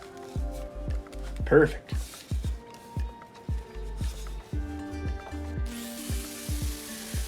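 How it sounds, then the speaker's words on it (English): A hand file rasps against a piece of a life-sized Halo Reach turret in a series of short repeated strokes up close, with a brief spoken word partway through. "And file some more."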